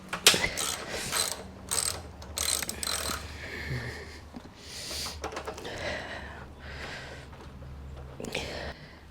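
A ratchet works a fuel tank bolt loose on a VL250 bobber motorcycle, giving repeated close clicking and rasping in short bursts, with some breathing and faint mechanical rattles between strokes.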